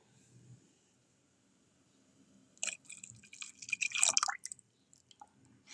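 Custard mixture, made of custard powder stirred into water, is poured into milk, giving a run of wet, dripping splashes that builds after a quiet start, close and fairly loud.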